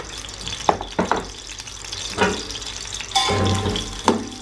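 Chopped onions dropped into a cup of hot oil in a pan for Punjabi aloo methi, giving a steady close sizzle with a few louder bursts of crackling as they hit the oil and get stirred.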